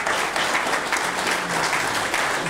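Audience applause at a political debate in Poland, dense sustained clapping from a crowd that holds steady and loud for the whole stretch.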